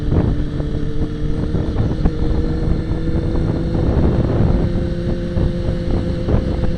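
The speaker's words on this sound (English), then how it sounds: "Helicopters landing at the University of Alberta." Helicopters landing at the University of Alberta, a steady loud rotor and engine roar with wind buffeting, continuous throughout and no talking.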